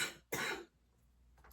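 A single short, sharp human cough from someone still recovering from illness, loud and close, with a brief throat sound just before it and faint breathy noise trailing after.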